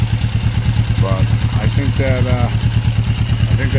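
A 1994 Kawasaki Vulcan 500 motorcycle idles close by with a steady, loud, low rumbling pulse throughout, while someone talks over it.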